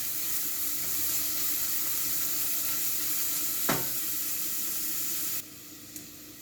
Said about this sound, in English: I'm going to saute this for a little bit until the onion is very translucent